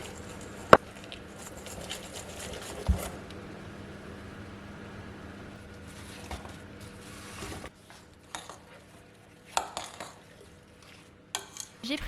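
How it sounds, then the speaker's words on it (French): Eggs being beaten with sugar in a bowl by hand, with quiet, intermittent clinks and scrapes of a utensil against the bowl and short pauses between bursts. "il suffit juste de battre les œufs avec le sucre"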